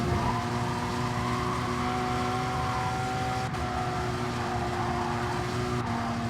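Racing game replay at Circuit de Sainte Croix: steady, loud engine drone of race cars streaming toward the finish line, continuous whine with a couple of sharp passing transients.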